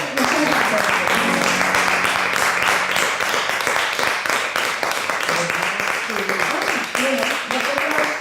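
An audience applauds after a poetry recital in Elburgo, with dense, sustained clapping from a crowd that stays loud throughout, while a voice speaks over it.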